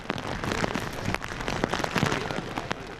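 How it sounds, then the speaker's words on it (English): Rain falling during an outdoor ANZAC Day ceremony, a dense steady patter of drops hitting surfaces, close and fairly loud, with scattered sharper splashes and no talking. "the rain that had been threatening all night started before the formalities"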